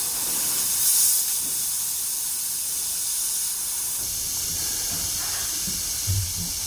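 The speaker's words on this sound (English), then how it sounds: "I'm going to go ahead and release the pressure" Compressed air hisses out of Air Lift air helper springs as the pressure is released, a loud, steady, close rush of air that holds for several seconds and fades slightly near the end.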